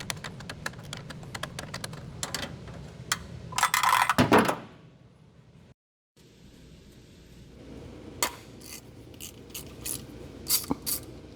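A ratchet works loose the bolts on a Chevy throttle body, with rapid clicking bursts near and loud, a dense spell of ratcheting midway, a brief silence, then scattered clicks and clanks.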